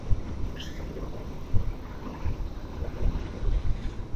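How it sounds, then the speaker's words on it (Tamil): Wind roars over the microphone of a Yamaha MT15 motorcycle riding fast on a highway past buses, a steady loud rushing with occasional gusty bumps. "பஸ்ஸு பக்கத்துலலாம் ஓவர்டேக் அடிக்கும்போது காற்று அடிக்குதா"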